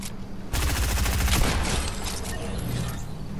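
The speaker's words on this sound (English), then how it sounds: "I love this railgun" A railgun firing in Fortnite, opening with a sudden loud blast and then a dense mechanical rattling and whirring that gradually thins out, close and steady, with no voices.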